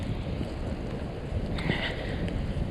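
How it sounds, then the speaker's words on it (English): Gusty wind roars steadily through a snowstorm, with snow blowing sideways, as a thick, unbroken broadband rush that swells slightly partway through. "So, it's windy and the snow's coming down sideways."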